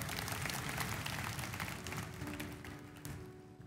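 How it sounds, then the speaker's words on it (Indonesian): Church congregation applauding during a sermon, a dense, steady wash of clapping from many hands that holds for several seconds before easing slightly. "Berikan tepuk tangan untuk Tuhan."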